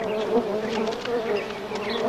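Honeybees gathering nectar buzz steadily and loudly up close, a continuous droning hum with slight shifts in pitch as they move about, with no voices.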